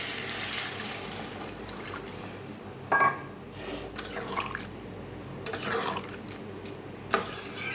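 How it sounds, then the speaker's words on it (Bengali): Broth poured into a pan of frying curry with vegetables: a soft continuous liquid splash and trickle with a few sharper spatters and clinks, close and steady, no talking. "ঝোল দিয়ে দিই।"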